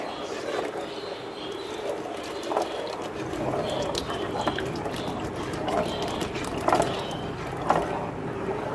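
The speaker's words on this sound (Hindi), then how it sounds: "अब हम इसे और मज़ीद पकाने के लिए इसमें और पानी शामिल करेंगे" Water poured into a pot of thickened kadhi for pakora kadhi, a low continuous splashing and trickling with a few brief clinks, moderately close and fairly quiet.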